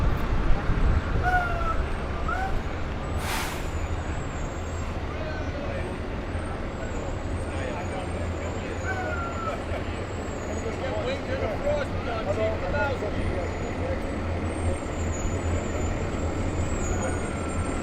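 Manorville fire trucks rolling past in a Memorial Day parade in Center Moriches, a continuous heavy engine rumble with a brief air-brake hiss and people talking nearby over the traffic.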